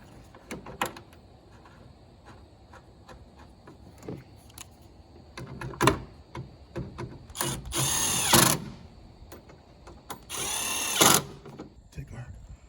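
Power tool tightening motor mount bolts on a Ford Fusion, with two loud sustained bursts of whirring and rattling and scattered clanks and taps between them, close by, with no talk.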